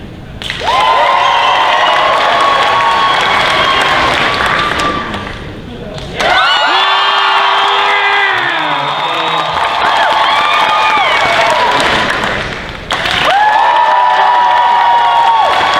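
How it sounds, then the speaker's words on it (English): Crowd at a Dragon Con costume contest clapping and cheering in three loud bursts, with whoops, shouts and thumps, separated by brief lulls where voices carry over the crowd noise. "we're gonna point, and then you clap, and that's the one you like"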